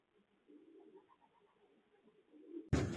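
Young pigeons in a pigeon loft give soft, low, murmuring coos that carry on steadily at a quiet level, ended by a sudden loud rustle or knock.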